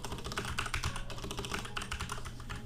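Rapid typing on a computer keyboard while chatting during a Minecraft Bedwars game, a quick irregular run of close key clicks over a low game background.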